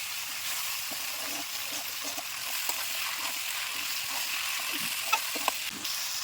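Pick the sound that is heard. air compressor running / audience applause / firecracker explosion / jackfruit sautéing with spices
jackfruit sautéing with spices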